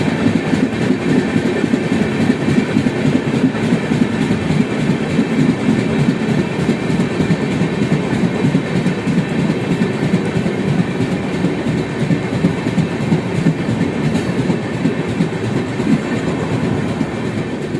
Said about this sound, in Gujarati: બાર નવસો નેવ્યાસી દાદરથી ચાલીને અજમેર સુધી જતી સુપરફાસ્ટ એક્સપ્રેસ ગાડી છે